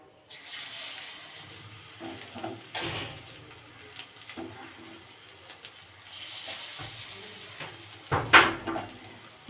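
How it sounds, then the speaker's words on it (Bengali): Pakoras made from fish fat fry in mustard oil, a soft continuous sizzle with occasional clinks of a pan and a louder splash and burst of bubbling near the end, at close range and without voices. "এবং অবশ্যই আমি এটা সর্ষের তেলে ভাজছি"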